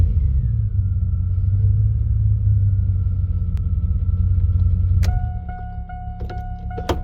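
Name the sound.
Chevy Silverado truck engine starting in neutral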